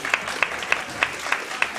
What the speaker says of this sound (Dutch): Applaus voor beide vechters.